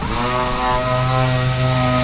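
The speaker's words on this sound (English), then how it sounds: "we're sanding off everything we can and getting rid of most of the black paint" A loud, steady mechanical drone of a power sander stripping black paint from a 2000 Peterbilt 379 truck's door jambs, running continuously with a strong low hum and constant buzzing throughout.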